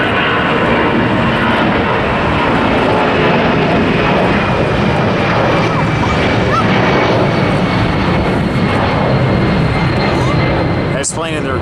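An airliner takes off at LAX, a loud sustained jet roar that fills the whole stretch with steady broadband noise and no pause.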